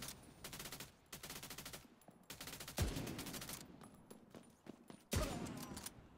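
Rapid bursts of automatic gunfire in The Division 2 shooter game, clustered volleys with sharp individual shots and a couple of heavier blasts, played fairly quietly.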